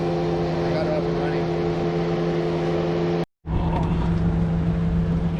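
A Toyota FJ Cruiser engine idles steadily at close range, a droning hum with a brief cut-out partway through before it resumes.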